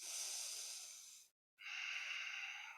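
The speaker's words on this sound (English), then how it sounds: "Continue long, deep breathing through the nose." Long, deep breaths drawn in and pushed out through the nose during a Kundalini yoga navel exercise, two steady airy breaths close and quiet, divided by a brief pause, with no talking.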